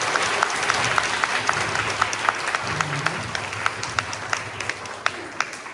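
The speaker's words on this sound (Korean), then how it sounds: "우선 강연해 주신 우리 이수돌 사범님께 큰 박수 부탁드립니다." Audience applause after a lecture by Go professional Lee Sedol at UNIST: a steady bed of clapping from a seated crowd, with sharper individual claps standing out rhythmically above it.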